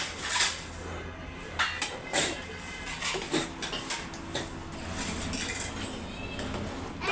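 Spoon clinks and scrapes against a wide pan while Gobi Manchurian is tossed and mixed, light metallic taps scattered irregularly under a faint voice talking close by.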